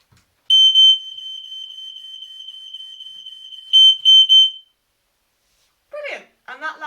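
A loud, piercing smoke alarm shrills continuously for about four seconds during a test, with harsher bursts at its start and end, then cuts off before a voice briefly speaks.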